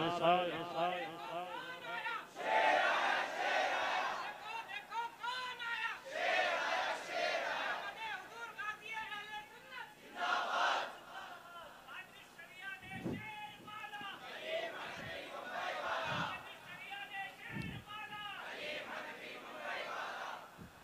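Large gathering at an Urs commemoration gathering chanting religious slogans in loud unison responses, swelling bursts of many voices alternating with a single leading voice calling out.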